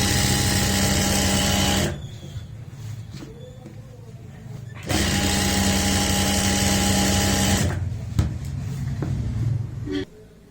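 An electric sewing machine stitches elastic into the waistband of palazzo pants. It runs loud and close in two long, steady bursts, with quieter handling noise in the pause between them and after the second run.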